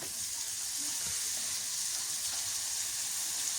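Dried fish frying in hot oil, a steady, even sizzle that holds at moderate loudness throughout with no voices.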